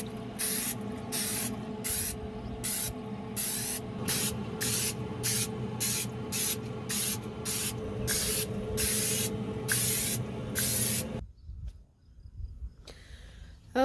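Parts of a Z Grill pellet smoker get sprayed in about sixteen quick, evenly spaced aerosol bursts, each a sharp hiss, over a steady background hum. The spraying stops near the end, leaving a quieter stretch.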